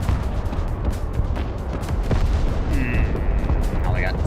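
Bombs exploding in the Broken Arrow strategy game: a steady low rumble of distant blasts and muffled booms rolls throughout, with a faint electronic tone or two over the top.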